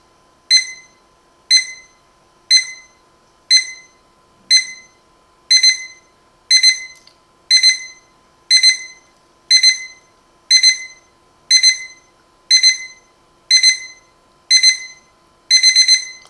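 An AURIOL digital alarm clock with wireless charging station beeps loudly and alone in regular bursts about once a second, the early bursts short and the later ones doubling into quicker, longer chirps.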